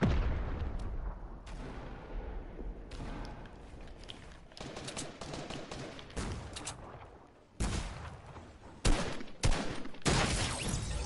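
Gunfire in an online shooter game during clan tryouts: a steady wash of distant shooting, broken by sudden loud close cracks and heavy booming bursts toward the end.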